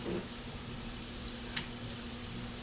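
Extra virgin olive oil sizzles and crackles gently in a sautéing pan while stuffed peppers are cooked, a soft, steady frying hiss with a brief louder splash at the start.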